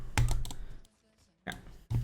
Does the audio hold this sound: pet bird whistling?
no